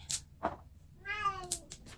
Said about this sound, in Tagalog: Yung pusa, kumakanta din.